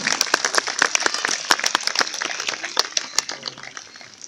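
An outdoor audience at a bird-of-prey show applauds after a female Andean condor's flight, with steady, dense clapping and sharp individual claps standing out throughout.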